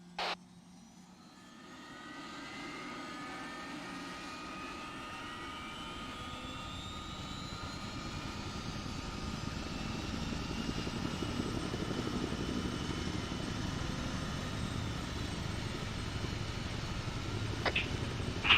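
Aircraft engines in the Arma 3 military game spool up to a steady, rising roar with a faint climbing whine, building over the first couple of seconds and then holding loud, with no talk.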